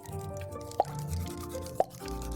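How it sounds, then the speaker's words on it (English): Two distinct bubble pops in the game Before Your Eyes, each a crisp, wet plop about a second apart, sounding clearly over soft background music. "Something about those bubble popping sounds is incredibly fantastic."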